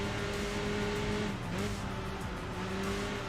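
A race car in Enthusia Professional Racing accelerating hard, its loud, steady engine whine climbing continuously, with a brief dip around a gear change and faint tyre noise underneath.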